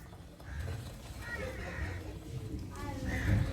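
Front wheel of a 2020 Bajaj Boxer X150 motorcycle spun by hand after fitting a new speedometer cable, giving a soft whirring, ticking mechanical rattle over several seconds; faint talk and background noise run beneath it.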